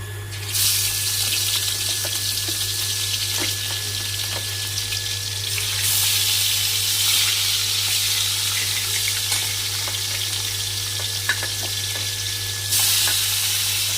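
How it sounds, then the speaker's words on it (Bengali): Fish frying in oil in a home kitchen, a continuous loud hissing sizzle close by that swells and fades in strength, with a low steady hum beneath and occasional small clinks, no voices. "মাছটা ভাজা হোক"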